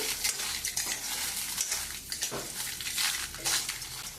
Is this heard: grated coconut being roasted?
yes